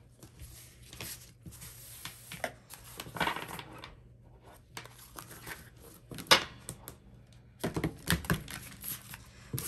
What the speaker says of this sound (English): Trying not to shuffle too crazy because I don't want to bend these cards.